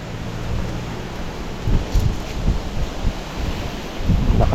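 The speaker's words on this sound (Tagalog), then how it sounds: "Lakas ng hangin ah." Strong wind blows outdoors after a village fiesta, a broad rushing roar that buffets the microphone in gusts, steady and fairly close with no clear talk.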